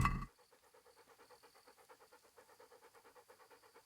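A dog pants rapidly and steadily in Kingdom Come: Deliverance, quiet and close, a rhythmic string of short breaths after a brief louder sound at the start.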